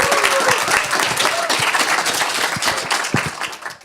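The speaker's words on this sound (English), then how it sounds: "let's give another round of applause for Jamie Seymour" Audience applause at a science club evening for speaker Jamie Seymour, a dense burst of clapping that thins out into a few scattered claps over about four seconds.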